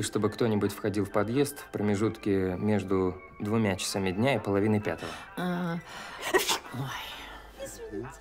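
A single short sneeze bursts out near the end, following a stretch of conversational talk in a quiet room.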